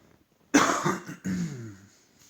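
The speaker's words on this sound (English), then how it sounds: "Sorry for the coughing." Two harsh, close coughs in quick succession, the first a sharp burst and the second rougher and more drawn out, with quiet before them.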